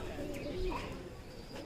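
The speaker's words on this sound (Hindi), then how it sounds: "भाई ने बड़े अच्छे कबूतर रखे हुए हैं" Pigeons kept in a backyard loft coo softly in low, rolling calls against a faint background murmur, with occasional chirps mixed in.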